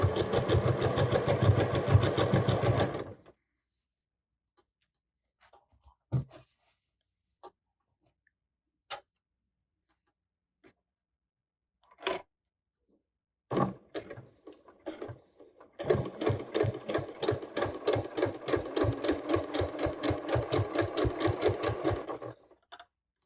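A sewing machine sews ribbing onto a top in two bursts, a short run at the start and a longer one near the end, each with rapid rhythmic needle pulses. Scattered small clicks and handling noises fill the quiet gap between them.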